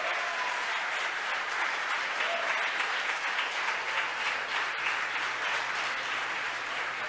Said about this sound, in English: the folks who watched the mission cheering